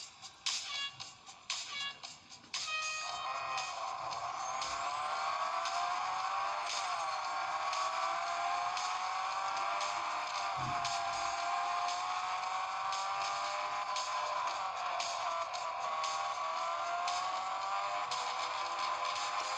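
A racing video game plays on a cheap imitation Samsung Galaxy S8 Edge phone. Cars whine and drone steadily with continuous engine tones that slowly rise and fall, after a brief burst of clattering sounds at the start.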